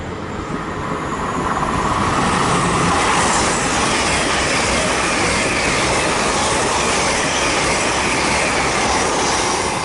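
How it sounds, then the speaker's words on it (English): Loud, close pass of a Great Western Railway train through Ealing Broadway on the Swansea to London Paddington service, a broad roar of wheels and engines swelling in the first two seconds and staying dense to the end. "We'll have a Great Western Railway service from Swansea to London Paddington."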